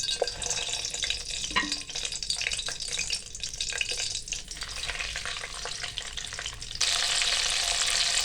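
Butter melting and frying in hot oil in a pot for chicken makhni handi, a steady close crackling sizzle with scattered pops, swelling into a louder, denser hiss toward the end.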